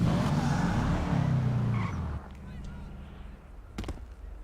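A Subaru WRX in a driving video game skids through a turn, with rough tire scrub and engine noise loud at first, then dropping to a lower engine hum with a few small knocks, while a person talks over it.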